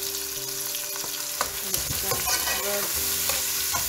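Three medium chopped onions hit hot oil in a pan for a chicken and potato dish, giving a burst of sizzling with spoon clatters and stirring scrapes that continue steadily.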